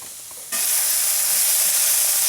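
Vegan sausage jambalaya sizzling in a hot pan, with a steady loud hiss that starts abruptly and holds without a break, close up.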